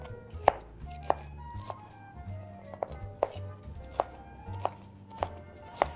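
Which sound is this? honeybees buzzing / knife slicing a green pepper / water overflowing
knife slicing a green pepper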